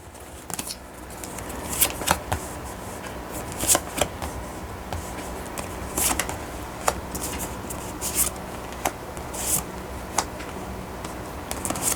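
Tarot cards are shuffled and handled up close, producing repeated soft riffles, slides and sharp little flicks at an uneven pace, with no voices.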